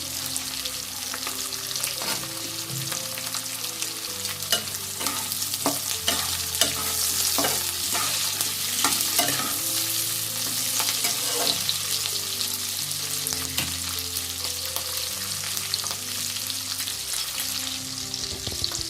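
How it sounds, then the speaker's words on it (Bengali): Capsicum frying in a pan for a raw jackfruit kofta chili, a close, continuous sizzle with frequent scraping and clinking as it is stirred, steady and moderately loud, with no voices. "এরপর আমি ক্যাপসিকামটা দিলাম।"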